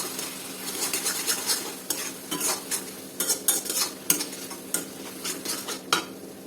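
Chillies frying with ground coriander and cumin in a pan for an Assamese fish curry with taro leaves, the spoon scraping and stirring in steady clatters over a soft continuous sizzle, close and moderately loud.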